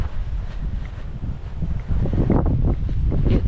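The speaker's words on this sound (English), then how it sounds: "It's so windy." Strong Mojave Desert wind buffets the microphone as a steady low roar that swells louder partway through, with no voices.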